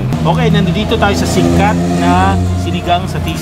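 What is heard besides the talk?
roadside traffic: motorcycle exhausts and car noise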